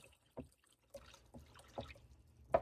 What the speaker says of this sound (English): I also add a little bit of water.